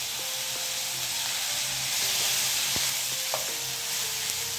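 Vegetables sizzle and fry steadily in a pan with green chili sauce, a dense continuous hiss with occasional light tool clinks and scrapes, close and moderately loud, with no talking.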